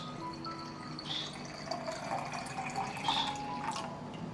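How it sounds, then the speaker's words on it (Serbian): Water, 500 ml, poured into a jug already holding goat whey, with dripping and splashing liquid sounds close by and no voices. "I dodat ću 500 ml vode."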